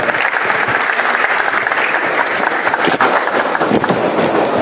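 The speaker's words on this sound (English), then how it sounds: "A big round of applause" A loud, dense round of applause fills a hall at a startup event, welcoming Commerce and Industry Minister Piyush Goyal. The crowd claps vigorously and evenly throughout.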